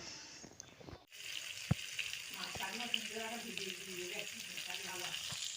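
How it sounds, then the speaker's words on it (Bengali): Fish fries in oil with a steady sizzle that fills the clip after a brief cut, with a few soft knocks and a faint voice murmuring underneath. "মাছটাকে ভাজছি"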